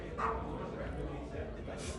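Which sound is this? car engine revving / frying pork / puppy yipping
puppy yipping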